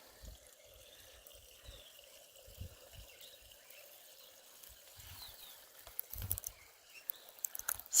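A small, clear mountain stream in a Nilgiri Hills village babbles and trickles softly and steadily, faint and close, with a few low knocks and rustles near the end.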